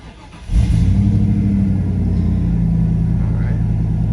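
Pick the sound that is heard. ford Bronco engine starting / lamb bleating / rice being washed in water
ford Bronco engine starting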